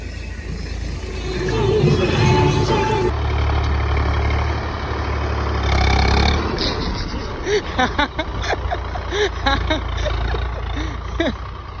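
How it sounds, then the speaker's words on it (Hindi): A tractor engine drones steadily while a field is being sown in the evening, loud and close with a deep low rumble that swells and eases, and someone talks over it. "डैडी ट्रैक्टर भगा रहे हैं हाई के दूसरे में"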